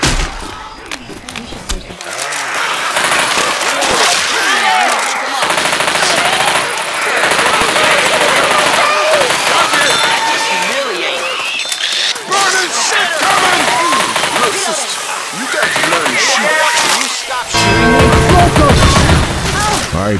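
Rapid gunfire with incendiary ammo in the shooter game Left 4 Dead 2, loud sustained automatic bursts with booms and crowd-like shouting, running through most of the stretch with voices mixed in.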